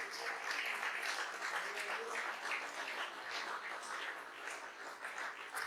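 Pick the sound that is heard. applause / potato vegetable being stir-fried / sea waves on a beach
applause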